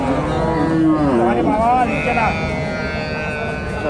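Dairy cows at the Bogura Dhap cattle market give loud, drawn-out moos one after another, close by, over a steady background of market crowd noise.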